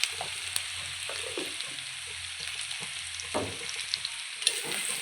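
Onion and salt sautéing in a pan for Kerala-style beef curry, a steady close frying sizzle with scattered stirring scrapes and spatula clicks throughout, no voices.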